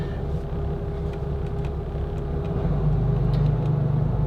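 A Colvic flybridge yacht's twin turbocharged diesel engines rumble and idle with a deep, steady drone, growing slightly louder and heavier toward the end, with faint clicks above.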